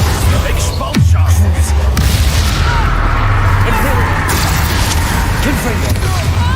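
A loud, booming spell blast erupts close up in Hogwarts Legacy, with a sudden thump followed by a rumbling roar that carries through, while a voice talks over the action.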